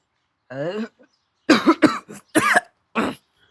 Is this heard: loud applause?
no